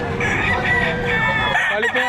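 At the Padre Garcia livestock auction market in Batangas, a rooster crows loudly and close in one drawn-out call, with faint crowd noise behind it.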